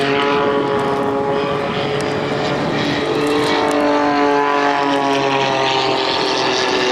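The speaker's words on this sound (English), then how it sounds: "Indeed, we can control the jet engines." A jet-powered Pitts aerobatic biplane flies at the Blackpool Airshow, a loud, continuous engine roar whose tone slowly rises and sweeps as the aircraft passes, heard alone.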